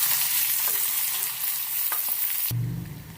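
Sliced onions dropped into hot oil with garlic in a pan, a loud bright sizzle with a couple of utensil clicks, then it cuts abruptly to a duller low rumble; no talking.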